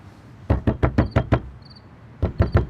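Someone raps on a door in two quick bursts of sharp knocks, about six in a row and then three more after a short pause, loud and close, with faint high beeps between.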